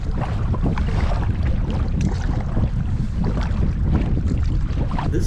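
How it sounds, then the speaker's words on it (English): Steady, roaring wind at about 20 miles per hour buffets the microphone continuously beside a kayak on the water, loud and unbroken throughout with no pauses. "the wind is blowing about 20 miles per hour"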